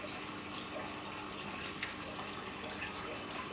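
Water from a slowed pump flows steadily into an aquaponics tank, a continuous trickling gush at a soft, even level with no talk over it.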